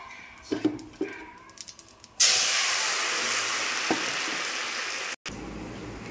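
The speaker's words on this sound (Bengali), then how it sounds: "এই দেখো শুধু একটুখানি জিরে ফোড়ন দেব" Cumin seeds hit hot oil for tempering a light fish curry with tengra fish and brinjal, bursting into a sudden loud, steady hiss and sizzle that holds for about three seconds after quieter kitchen clatter.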